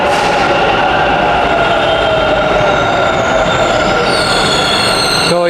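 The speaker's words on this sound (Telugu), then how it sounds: "మెట్రో అయితే వచ్చేసింది" A Bengaluru metro train pulling into an underground station, loud steady rumble of wheels on rails with rising squeals and brake hiss near the end, no talking.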